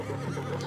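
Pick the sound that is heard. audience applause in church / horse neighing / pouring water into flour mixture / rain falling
horse neighing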